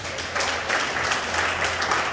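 Guests at a Mende naming ceremony in Sierra Leone give a round of applause, with continuous, even clapping at moderate volume over a low steady hum.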